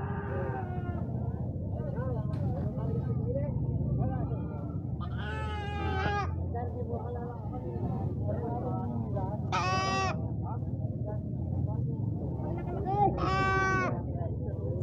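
Goats bleat repeatedly in loud, wavering cries at a livestock market, with several calls rising over a constant crowd murmur and nearby people talking.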